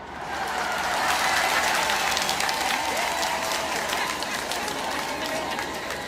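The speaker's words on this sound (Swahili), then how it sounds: "kina Mzee Warioba, kina Majaliwa wakisimama hapa, vigelegele hivi nafanya walioko kazini wajue na sisi siku moja tunataka vigelegele" A crowd at a memorial gathering breaks into sustained applause mixed with high ululating trills, a dense, loud wash of clapping and cheering that holds steady throughout.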